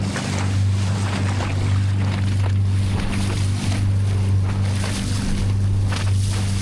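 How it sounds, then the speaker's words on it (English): Boat motoring over bigger sea waves where a river opens into the sea near a floating oyster village in Vietnam: a steady droning engine hum under rushing wind and splashing water, continuous and close, no speech. "The river opens into the sea, the waves get bigger"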